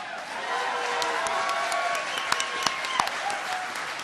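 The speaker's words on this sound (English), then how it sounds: "Thanks for all the applause, folks." Audience applause at a 2006 scholars' symposium, a steady wash of clapping from a crowd with a few sharper claps and faint voices mixed in, ending moderately loud.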